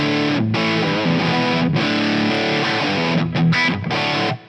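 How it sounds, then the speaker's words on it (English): High-gain distorted electric guitar through a Fractal Axe-FX III amp modeler, loud saturated chords ringing with brief gaps between them, played alone without talk. "It is high gain distortion."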